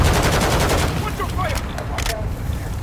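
Gunfire in Call of Duty MW2 DMZ: a rapid burst of automatic shots opens loud and close, followed by a few scattered sharper cracks as the shooting trails off.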